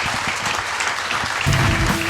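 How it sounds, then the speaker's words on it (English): Dense, steady applause from a live audience at a Gettysburg history show fills the whole stretch, swelling slightly louder toward the end, with no clear voices over it. "Give yourselves a round of applause."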